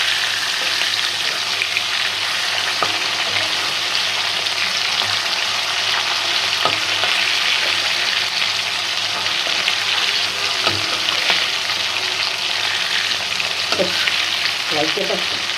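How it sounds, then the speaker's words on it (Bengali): Pangasius fish frying in hot oil, a steady, loud sizzle and crackle running continuously for about fifteen seconds, with occasional small pops and stirring clicks. "এই যে আমাদের মাছ ভাজাটা খুব সুন্দর করে হয়ে গেছে, একদম মশমশা করে ভাজছি।"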